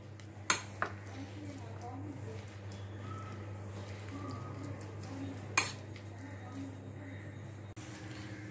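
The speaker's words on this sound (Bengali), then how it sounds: "এবার পুরো মিশ্রণটাকে আমাকে ভালো করে মিশিয়ে নিতে হবে।" A spoon scrapes and clinks against a bowl while galouti kebab mixture, seasoned with kewra water, is stirred by hand, with a few sharper knocks against the dish and a steady low hum in the background.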